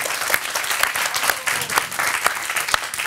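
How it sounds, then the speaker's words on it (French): A game show studio audience claps continuously and evenly throughout, a dense, fairly close wash of applause with no pauses. "on peut les applaudir encore une fois"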